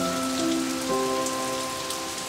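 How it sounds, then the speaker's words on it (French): Steady rain patters on surfaces just outside a cave, a dense, even hiss of raindrops with a faint tonal hum beneath, no voices. "s'assirent pour regarder les gouttes de pluie"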